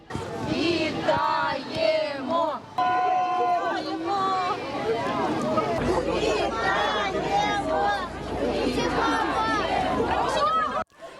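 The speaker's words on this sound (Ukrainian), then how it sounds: "Натовп вибухає емоціями." Relatives and loved ones greet a bus carrying freed soldiers, their emotional crowd erupting in loud, continuous shouting, cheering and excited voices that stay dense and close throughout.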